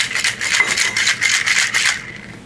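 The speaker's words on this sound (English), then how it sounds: "We're going to shake this up," Cocktail shaker with ice and a tequila shot drink being shaken hard, a dense rattling swish pulsing in about eight quick strokes for two seconds, close and loud, then stopping.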